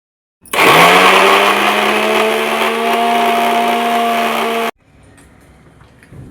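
A mixer grinder grinding masala coarsely whirs loudly and steadily for several seconds, then cuts off abruptly, leaving quiet room noise.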